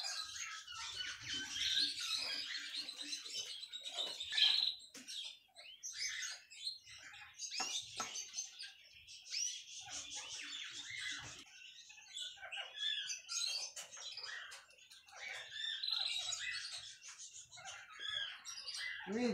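Young pet canaries chirp and tweet steadily at home after eating, a dense flurry of small bright calls, close and fairly quiet, with no voices over them.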